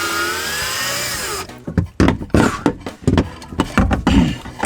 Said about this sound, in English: I'm having a really hard time getting the drill in here.